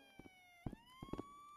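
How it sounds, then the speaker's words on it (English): A police siren inside the video game Rec Room wails in rising and falling tones, fairly faint and steady across the moment, with a few short vocal-like bursts over it. "The police, is that a siren?"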